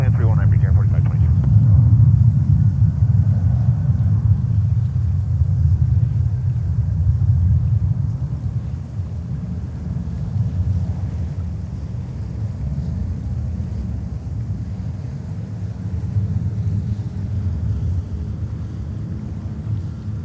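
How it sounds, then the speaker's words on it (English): A Delta Airlines Boeing 737 at JFK Airport gives off a loud, steady low jet rumble with wind buffeting, easing slightly partway through and continuing at a lower level. "Here we go, Delta Airlines 737."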